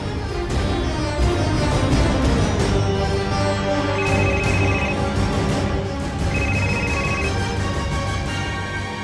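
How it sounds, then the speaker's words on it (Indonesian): An outgoing phone call rings through, with two evenly spaced ringback tones about two seconds apart sounding under continuous background music. "Saya harus telepon Sakti"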